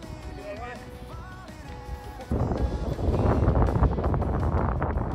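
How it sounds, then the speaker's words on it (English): Heavy wind buffets the microphone outdoors on a golf course hilltop, a low roaring rush that grows stronger midway and keeps going. "Bit windy up the top"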